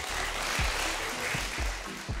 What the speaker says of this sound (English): to trigger different clap sounds